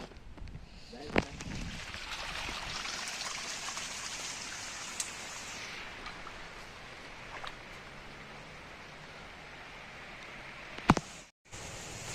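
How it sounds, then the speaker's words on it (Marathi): Heavy rain falls in a village, a dense steady hiss with a few sharp knocks and drips nearby, and the sound cuts off briefly near the end. "जोरात पाऊस आलाय"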